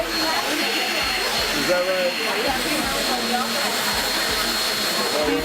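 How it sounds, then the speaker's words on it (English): Hair dryer blowing on twisted natural hair, a loud continuous whooshing whir that runs the whole time under a brief spoken remark. "So I'm just going to hand dry it right now for you."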